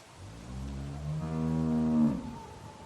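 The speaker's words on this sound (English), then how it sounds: "Do you want to pet the cow with me?" A cow in The Walking Dead video game moos once, a long, low, clearly pitched call that swells for about two seconds before breaking off, close and loud, with no voices over it.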